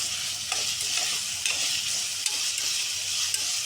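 Chickpea (kabuli chana) gravy masala sizzling steadily in a pan, with a spoon scraping and stirring through it every second or so; close and fairly loud, with no talking.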